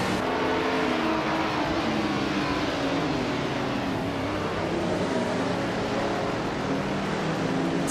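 Several race cars in a racing video game roar off the starting line together, among them a vintage 1977 Porsche 936, with loud, steady engine whine and shifting pitch sustained throughout, no talking.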